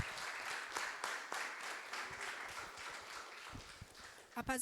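A faint, distant round of clapping from a congregation at a youth-led church service, a loose, uneven patter with brief sounds of movement and a voice near the end.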